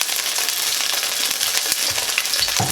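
Beef frying in oil in a hot pan, a dense, continuous sizzle with occasional stirring scrapes, loud and close with no talking.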